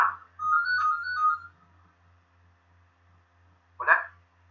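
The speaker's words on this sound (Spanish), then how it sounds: "Disculpen, me voy a atender el teléfono un momentito." A telephone rings during an online lecture with a tonal, slightly warbling ring lasting over a second. A short voiced sound follows a few seconds later over faint background hum.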